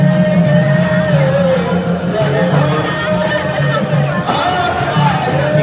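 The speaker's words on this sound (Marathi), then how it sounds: "पालखीसाठी अजून पण किती गर्दी आहे बघताय तुम्ही." A large crowd gathered late at night around a palanquin at a village fair in Kanse: a dense, loud murmur of many voices, with sustained music running through it.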